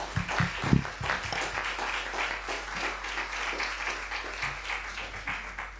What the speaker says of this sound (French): On va t'applaudir.